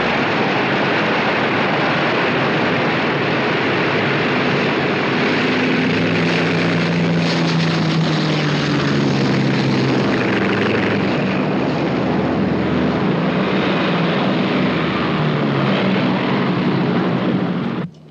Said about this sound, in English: 2 unidentified planes inbound at 20 miles